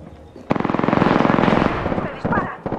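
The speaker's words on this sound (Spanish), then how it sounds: "¡Me disparan! ¡Disparad!" Rapid automatic gunfire in the battle royale video game Apex Legends, a loud, close burst of fast rhythmic shots lasting over a second, followed by a few scattered single shots and game sound effects.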